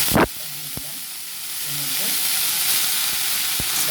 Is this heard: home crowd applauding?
no